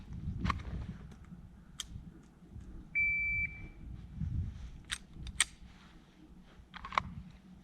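A single sharp electronic shot timer beep sounds alone for about half a second during dry-fire pistol practice, surrounded by scattered quiet clicks and light handling noise.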